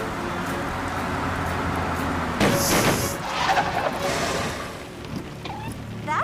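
A car pulls in at a motel in heavy rain, its engine and wet road noise a steady rumbling hiss that swells midway with a splashing surge before easing off.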